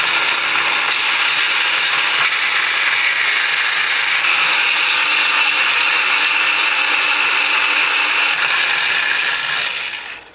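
A Granberg precision chainsaw sharpener grinds a chainsaw tooth in a loud, steady high-pitched whine that holds for about ten seconds and then cuts off abruptly, with no voices.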